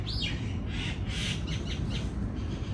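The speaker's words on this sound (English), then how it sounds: "They have kind of monkey sounding birds." Birds squawk and caw in a series of harsh, rough calls, about six bursts spread over a few seconds against a low background rumble, moderately close and unaccompanied by voices.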